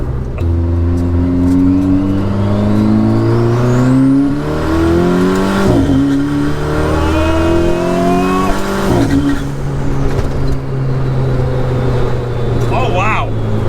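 A 450-horsepower rear-wheel-drive Mini with a DSG gearbox and its exhaust valves open drones loudly from inside the cabin, revs rising and falling through gear changes, with people talking over the engine.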